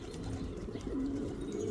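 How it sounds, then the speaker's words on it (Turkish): Racing pigeon with a race ring and chip on its leg, landed in a home garden, cooing softly in low repeated rolling notes, close by with faint background noise and no voices. "bahçemize bir yarış postası indi"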